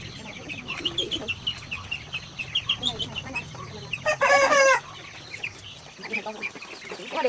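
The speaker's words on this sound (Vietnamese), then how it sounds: "Cho em xem gà đấy." Chickens on a Vietnamese farm cluck in a steady stream of short calls, and a loud rooster crow cuts in near the middle. Faint voices talk in the background.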